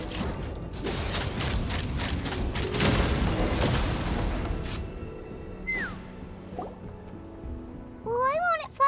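Rapid gunfire volley in the video game Genshin Impact, a dense burst of overlapping shots and mechanical clatter for several seconds, then fading into quieter game sounds with faint tonal effects.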